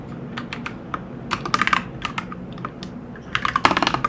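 Fingers type on a computer keyboard, close up, with quick clusters of light clicking keystrokes separated by short pauses.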